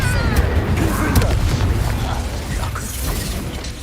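A Confringo spell blast in the Hogwarts Legacy video game, a loud booming burst with clanking mechanical rattles and crackling debris, under a game soundtrack with a voice calling out the spell.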